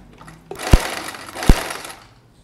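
A sewing machine with a buttonhole foot stitches a buttonhole in a short motor whir, with two distinct thumping stitch beats close together. No one speaks.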